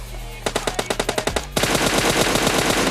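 PUBG Mobile gunfire on the Erangel map: about ten evenly spaced, loud single shots, then a dense, rapid automatic burst that keeps going without pause.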